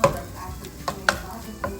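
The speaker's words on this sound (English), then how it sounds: "Add that to the oil and just saute them" Freshly chopped onions sauté in oil for chicken stir-fried rice, a low sizzle with a few distinct spoon taps and scrapes against the pan, close and moderately quiet.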